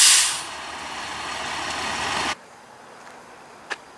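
A truck at night, its engine and air brake hiss loud at first, then the sound cuts off abruptly to quiet with a faint click afterward.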